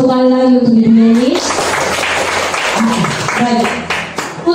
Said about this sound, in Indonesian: Boleh tepuk tangan 1 kali lagi untuk Ibu ini.